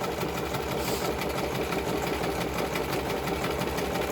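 A sewing machine stitches over card with a loud, steady, fast-running whir and rhythmic needle chatter, close by and continuous, with no voices.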